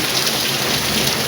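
Steady rain falling and pattering on a surface at night, a dense continuous hiss with no voices, loud and close throughout.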